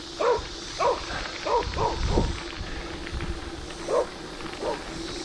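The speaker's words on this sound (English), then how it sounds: "Just herding dogs," Herding dogs, heelers or Australian Shepherds chasing a cyclist, bark repeatedly in quick bursts of two and three with a short pause between volleys, close and fairly loud over steady road and wind noise.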